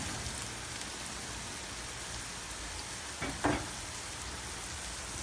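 Beef frying in a pan gives off a steady, soft sizzle, with a brief clatter of stirring partway through and no talking.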